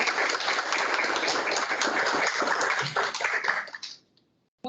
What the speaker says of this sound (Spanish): recibimos a la doctora con un aplauso